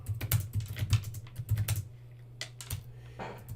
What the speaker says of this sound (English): Let's type it in to find out.